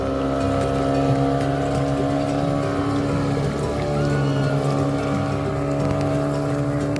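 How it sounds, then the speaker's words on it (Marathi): A speedboat runs across the water at Panshet near Pune, its engine droning loud and steady with a constant whine and rush of water for the whole stretch. "दक्ष ती बघ कशी चालली स्पीड बोट ती बघ."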